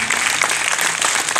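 An arena audience claps steadily at a church ribbon-cutting event, a dense, even patter of many hands that stays loud and unbroken throughout, with no voices standing out.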